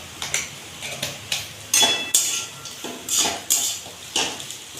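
A spoon stirs a peanut filling seasoned with sambar masala and green chilli in a pan, for dosa. It makes a run of close, fairly regular metallic clinks and scrapes against the pan, with no talking.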